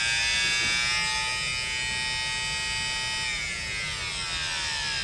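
A failing electric pump motor runs noisily, a steady high buzzing whine close to the listener, with its pitch sagging slightly partway through and then holding, heard alone without talking.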